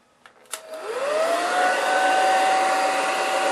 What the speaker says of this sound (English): let's just demonstrate how close you would go with the dryer, and how you might apply this technique